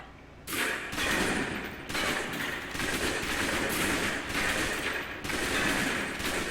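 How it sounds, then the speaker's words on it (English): Submachine gun fire in the video game Alpha Protocol, loud sustained automatic bursts with brief pauses between them, close up and with no voices over it. "Let's move on to the submachine gun."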